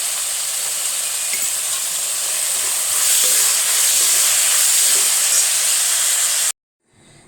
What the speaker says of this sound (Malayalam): നമ്മുടെ സവാളയും ഉള്ളിയും വെളുത്തുള്ളിയും എല്ലാം നന്നായിട്ട് വഴറ്റിയെടുത്തിട്ടുണ്ട്.